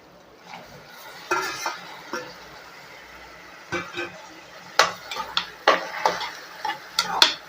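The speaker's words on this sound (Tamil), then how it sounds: "இப்போ நம்ம கட் பண்ணி வச்ச தக்காளியை சேர்த்துக்கலாம்" Onions and chopped tomatoes sautéed in a pan for an eggplant and black chickpea kuzhambu, heard as a soft background sizzle broken by scattered spatula scrapes and clinks against the pan, near and intermittent, with no speech.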